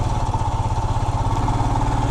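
A motorcycle engine hums steadily and close, riding along a ghat section road on the way from Kodaikanal to Coimbatore, with a continuous low droning throb and no talk.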